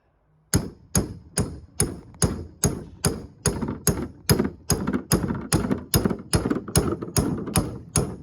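Hammer blows strike a small hatchet head during a mini axe rebuild, a steady run of about twenty sharp, loud metallic knocks at an even pace, close up and with no talk.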